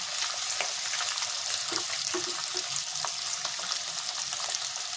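Onions fry in oil for a home-style mutton curry, giving a soft, continuous crackling sizzle with scattered pops and no talking.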